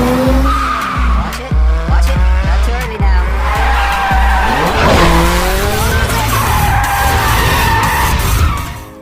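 A car drifts in a Tokyo street race from Fast & Furious Tokyo Drift, its engine roaring and revving while the tires squeal in long, loud, wavering slides, with voices mixed in beneath.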